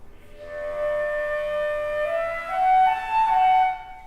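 A flute played with too much throat tension holds a thin, steady tone that climbs in small steps as it continues, played alone at moderate volume.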